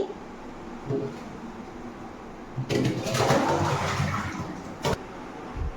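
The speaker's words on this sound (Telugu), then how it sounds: "ఇప్పుడు కడుక్కుంటున్నాను పెద్ద బేసిన్లో వేసి మళ్ళీ బుట్టలో తీస్తున్నానండి" Spinach is washed in a large basin of water, with brief sloshes early on, then a louder splashing, swirling burst midway and a quick final splash, all close.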